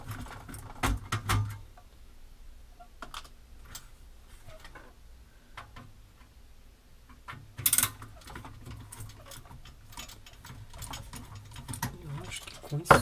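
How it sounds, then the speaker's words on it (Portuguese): A screw being loosened on a Gradiente Model 86 receiver: quiet, scattered ratcheting clicks and small metallic ticks with a few sharper knocks, close and faint against a hushed background. "Soltando o parafuso errado."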